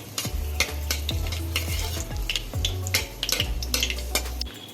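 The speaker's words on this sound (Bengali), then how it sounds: "এখন হচ্ছে শুকনো লঙ্কা দিয়ে দিচ্ছি" Dry red chillies sizzle in hot oil, a continuous frying hiss punctuated by repeated sharp metal taps and scrapes of a spoon against the pan at a fairly regular pace.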